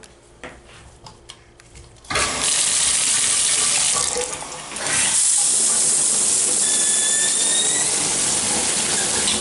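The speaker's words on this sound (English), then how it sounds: "Up here is your overhead shower." A hotel bathroom's overhead shower runs with a steady, loud hiss of falling water that starts abruptly after a few quiet seconds and continues close to the microphone, with a short dip midway.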